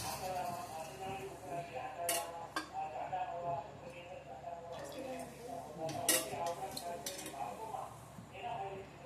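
A kadai pan is set down on a gas stove and oil is poured in while making paneer bhurji, giving scattered metallic clanks and clinks over a murmur of voices and kitchen background.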